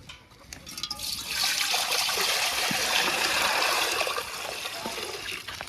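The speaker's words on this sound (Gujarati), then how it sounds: "અને પાણી પણ વેડી દઈશું અંદર." Water poured into a cooking pot on a lit outdoor village stove before making dal dhokli, a close, loud gushing pour that swells after a second, holds steady for about three seconds, then tapers into trickles.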